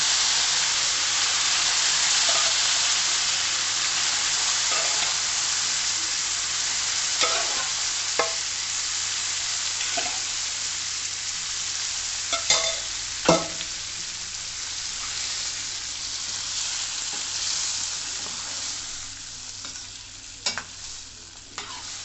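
A pan of potato and appalam kootu sizzles and hisses steadily while a spoon stirs, with occasional scraping clicks against the metal, close and continuous with no talking.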